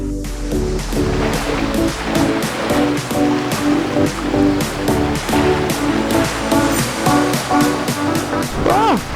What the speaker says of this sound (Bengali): সমুদ্রে ঢেউ দেখেছো, একটা দুটো না 3-4টে করে একবারে আসছে ঢেউ।